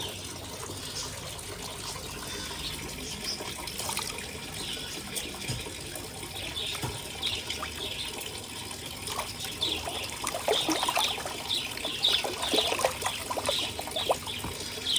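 Filtered water pours into a home fish tank, a steady close trickle and splash that grows a little louder toward the end, with faint bird chirps in the background and no talk.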